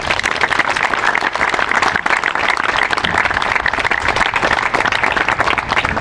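A crowd at a veterans' club Veterans Day ceremony claps loudly and steadily for the counseling and vet center staff, a dense, sustained wash of applause heard up close.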